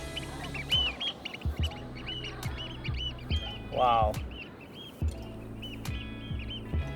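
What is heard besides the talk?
birds calling outdoors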